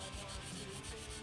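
Straight razor blade, an old curved-nose Wade & Butcher, honed on a whetstone with slurry in back-and-forth strokes and small circles, giving a steady faint wet rubbing and scraping close up.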